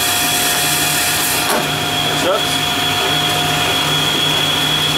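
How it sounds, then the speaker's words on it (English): Vacuum running in an optical lab during lens cutting, a loud steady mechanical hum with constant whining tones that carries through the whole clip, with a brief thump and a short spoken word partway. "Turn my vacuum on."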